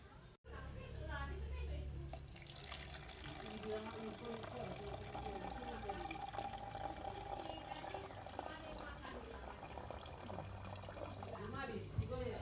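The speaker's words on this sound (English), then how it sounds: "Now I will blow the water from the blue cups into the container." Water from blue cups flows steadily into a container for several seconds, a continuous liquid rush with no pause.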